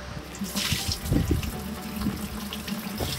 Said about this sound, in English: So we're draining the coolant because we're gonna have to reroute some of these coolant lines right here.